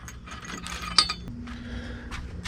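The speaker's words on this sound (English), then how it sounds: "now we can tighten up these bolts down here" Rapid clicking of a ratchet wrench tightening bolts on a Barricade Trail Force HD front bumper on a Jeep. The close, steady ratcheting comes in short bursts with a metallic clink partway through.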